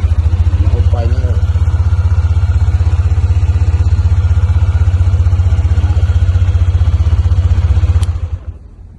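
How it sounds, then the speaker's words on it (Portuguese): A Honda CB300F Twister motorcycle engine runs steadily nearby with a loud, even, low idle thrum. A voice is briefly heard early on, and the engine cuts off near the end. "A moto funciona."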